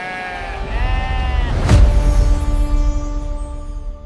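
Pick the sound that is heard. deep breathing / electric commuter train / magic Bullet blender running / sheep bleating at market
sheep bleating at market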